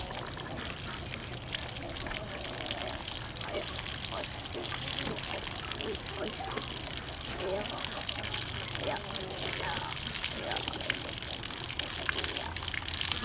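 Water from a rabbit hide being tanned is wrung out by hand, pouring and splattering in a steady, continuous gush close by, with some voice in the background.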